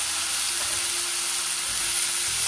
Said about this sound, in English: Now I'll add ginger grated. Ginger should not fry for too long, just a few seconds.